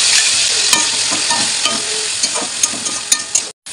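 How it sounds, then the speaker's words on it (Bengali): A ginger, garlic, tomato and green chili paste sizzles loudly in hot oil with fried potatoes, under a constant close hiss broken by intermittent stirring scrapes before a sudden brief drop at the end. "আলুগুলো একটু ভেজে নিয়েছি, এরপর এর মধ্যে আদা রসুন টমেটো আর কাঁচা লঙ্কার যে পেস্টটা আছে ওটা অ্যাড করে দিচ্ছি"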